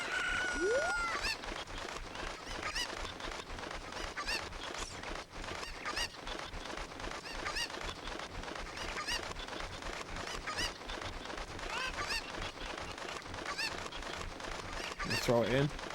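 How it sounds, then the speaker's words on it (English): Cuccos, the chicken-like birds of Zelda: Ocarina of Time, cluck and squawk in busy game audio, with a sharp burst of their calls near the end over steady background music and effects. "we want to catch all the cuckoos and take them back to the cuckoo lady"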